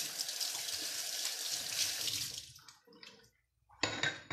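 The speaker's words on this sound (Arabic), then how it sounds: "نغسل يدينا" Tap water runs steadily into a sink while hands are washed, a bright continuous splash that fades out, then a short pause before a renewed burst of flow near the end.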